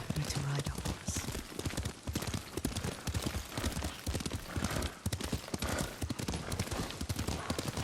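Horse hooves clip-clopping at a steady trot through the whole stretch in Ghost of Tsushima, close and continuous, with a brief whinny near the start.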